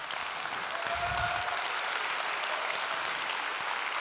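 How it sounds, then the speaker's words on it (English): An audience at a smartphone product launch event claps in a steady, dense round of applause that fills the hall from start to finish, with no voices standing out. "you guys clapped a bit earlier than I thought"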